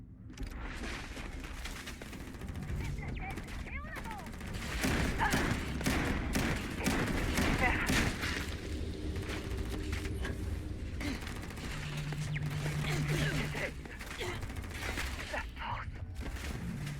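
Gunfire in the video game Starfield, dense rapid shots and bursts layered with mechanical clatter and game sound effects, loud and continuous, with a voice speaking over the action at times.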